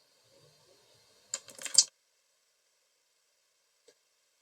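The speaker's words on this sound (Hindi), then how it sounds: "आधार नंबर यहाँ से टाइप करते हैं।" A quick burst of key presses on a computer keyboard enters an Aadhaar number into an online scholarship form. The soft, close clicks last about half a second in otherwise quiet surroundings, with one faint tap afterward.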